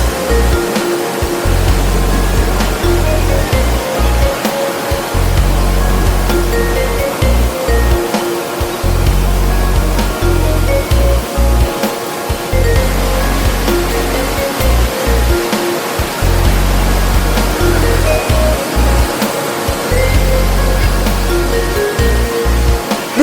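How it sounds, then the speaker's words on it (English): Cavern Cascade, a waterfall in a rocky gorge at Watkins Glen, pours down in a loud, continuous rushing roar heard from a path passing right behind the falling water. "In order to continue the hike, you must walk behind this waterfall."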